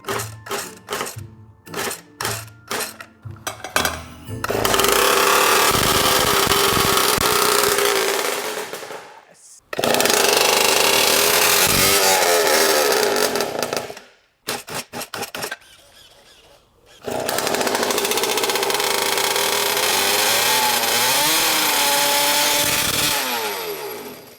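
A small engine sputters through several short pulls and catches, then roars loudly at high revs in long sustained bursts with brief drops between them. No one speaks.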